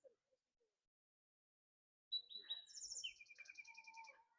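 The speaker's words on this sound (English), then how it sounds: "there's a lot of birds." Birds calling by an urban creek in a park, a near quiet stretch before bright chirps and trilling phrases burst in and overlap for a couple of seconds, fairly close and clear.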